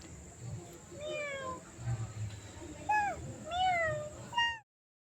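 A cat meows several times in short, rising calls, close and fairly clear, with quiet background rumble between cries and an abrupt cutoff at the end.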